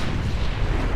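Torpedo hits in the naval warship game Ultimate Admiral Dreadnoughts form a dense, continuous low rumble of explosions, loud and sustained through the whole second with no speech.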